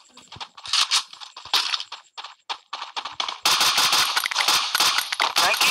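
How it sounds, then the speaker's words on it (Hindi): Gunfire in a squad match of a video game: rapid bursts of shots crackle close and loud, first in scattered volleys, then in sustained heavy firing, with keyboard-like clicking mixed in. "फायरिंग कर रहा है, बेमतलब फायरिंग मत कर।"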